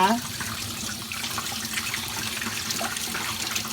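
Gutted fish, mackerel for salting, rinsed under a running tap, a steady close splash and gush of water into a sink.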